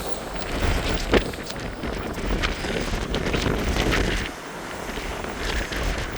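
Wind buffets the open deck of the Queen Mary 2 on a summer transatlantic crossing, a steady broadband rush that roars loudly into the microphone with gusts swelling and easing throughout, no voices.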